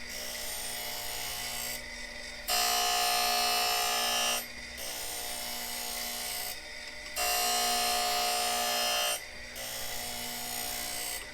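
A Harig Super 612 surface grinder, just brought out of storage, grinds metal in repeated passes: a loud, close raspy whine surges for about two seconds and then drops back to a quieter running hum, in a steady back-and-forth cycle.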